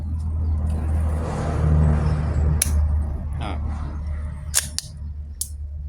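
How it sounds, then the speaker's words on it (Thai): An Umarex Glock 17 Gen5 blank pistol is test fired, producing a few sharp, brief reports spaced apart over a low background rumble. "ทดสอบยิงนะครับ"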